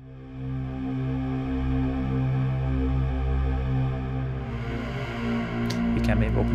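Arturia Pigments Nebula string preset plays a low chord progression for progressive house: a steady, sustained synth-string pad at moderate volume, with brighter plucky accents appearing near the end.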